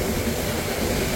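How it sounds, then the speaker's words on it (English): A train labours up an incline into Eimsbüttel, a steady, dense rumble of wheels and engine that holds at an even loudness throughout the short stretch, with no voices. "the train working hard as it goes up the incline into Eimsbüttel"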